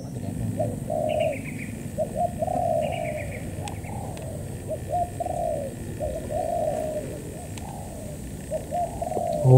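A decoy dove used for dove hunting coos over and over in a steady, repeating rhythm, its calls fairly close and clear above a low outdoor background.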